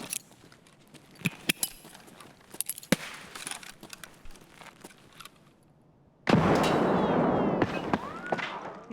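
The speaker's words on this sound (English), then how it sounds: "I'm gonna try to throw a nade." A grenade bursts in Escape From Tarkov, a sudden loud blast with a long noisy tail, preceded by scattered faint clicks and distant shots.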